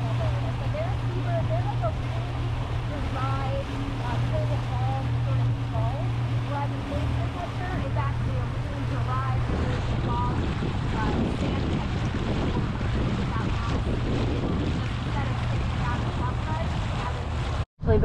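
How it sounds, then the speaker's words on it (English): Strong wind buffets the microphone over a boat's engine drone and choppy harbor water splashing in about 3-foot chop, loud and continuous. "and it's windy and it's messy."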